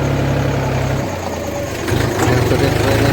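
A tractor loaded with fodder in a rainy farm field idles loudly and steadily nearby, a deep rumbling throb whose pitch shifts slightly a couple of times.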